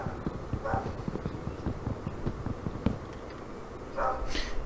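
Horse hooves clip-clop in the video game Minecraft, a quick irregular run of hoof clops with a few louder thuds and brief higher game sounds near the end.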